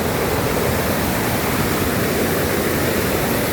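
Kanthaloor waterfall pours in a dense, constant roar of rushing water, loud and close, with no other sounds or voices over it.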